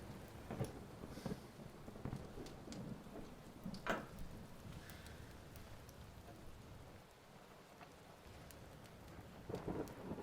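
Steady rain pours through a stormy night with rolling thunder, including a louder crack near four seconds and another rumble toward the end, constant and alone with no voices.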